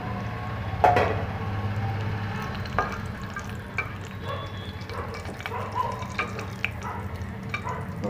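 Bay leaves and whole spices hit hot oil in a pan for eggplant korma, a soft steady sizzle with a sharper crackle at the start and occasional light clinks of stirring.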